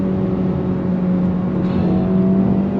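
A 2023 Honda Civic Type R engine climbs in second gear from about 3,500 to 7,000 RPM, a loud, steady rising drone heard from inside the cabin with no talk over it.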